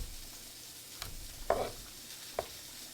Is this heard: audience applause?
no